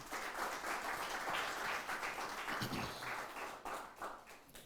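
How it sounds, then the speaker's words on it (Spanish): A church congregation claps during a sermon, the applause uneven and somewhat distant, rising and falling in loose bursts with a few stronger claps standing out. "Dele un aplauso a Jesucristo"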